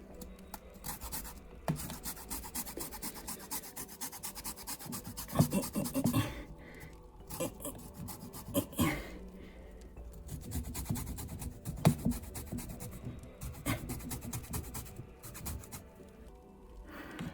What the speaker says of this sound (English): It says grated zest of 1 lemon